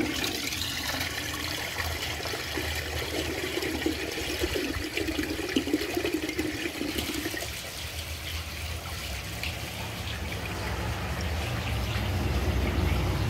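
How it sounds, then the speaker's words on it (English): A repaired Capizzi toilet flushes with a loud rushing swirl of water that drains away, followed by a quieter hiss and trickle as the tank refills, heard close up with no talking. "Now let's see if it can flush for real."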